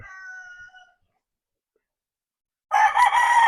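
A breeding rooster's short crow cuts in loud and close at the end, following a brief faint high call and a stretch of silence, with no one speaking.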